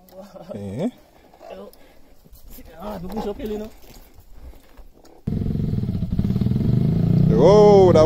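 A motorcycle ridden by a learner in Jamaica revs up and pulls away, the engine rising to a loud, steady roar in the second half after people talk over the quieter start.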